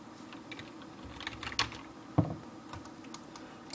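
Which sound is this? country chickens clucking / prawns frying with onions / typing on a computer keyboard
typing on a computer keyboard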